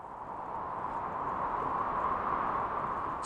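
Synthesizer patch imitating strong wind with the reverb switched off: a steady, dry, broadband rushing hiss that swells slightly and holds at a constant loudness for about three seconds, with no talk.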